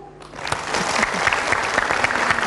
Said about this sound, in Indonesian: boleh tepuk tangan untuk ibu-ibu dari Majelis Taklim Asyaja'atun Mardiah